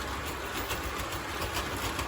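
An O gauge model locomotive strains to pull a heavy load of cars. It gives a steady, close-up mechanical whir and rumble with faint rhythmic clicking, and no voices are heard.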